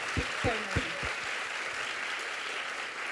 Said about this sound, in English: Can I get a massive round of applause for Yame